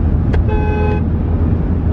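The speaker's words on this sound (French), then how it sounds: "elle klaxonne, elle est pas contente" Short car horn honk on a road, heard from inside a moving car, a loud half-second toot over steady engine and traffic rumble.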